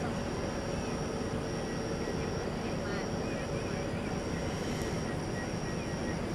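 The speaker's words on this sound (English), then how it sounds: "Got American Flight 402 coming in from Philadelphia, the city of brotherly love, and Airbus A321" American Airlines Airbus A321 on arrival from Philadelphia at DFW Airport at night, a steady broad jet rumble with faint high engine whine, continuous and moderately distant, with a voice talking over it.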